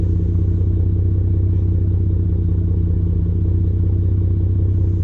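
Ford F150 EcoBoost idling with an AWE exhaust and SPD resonator, a deep, steady, even burble held close and loud throughout with no voices over it.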